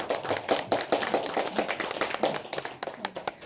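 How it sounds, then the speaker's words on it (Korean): Audience clapping at a Buddhist dharma talk, a steady burst of many hands applauding together that carries on evenly with no voices over it. "박수."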